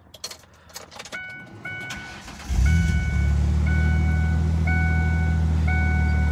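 A 2003 Ford Ranger automatic cranks and starts after a jingle of keys and a soft warning chime, the engine catching with a jump in loudness and settling into a steady, close idle while the chime repeats.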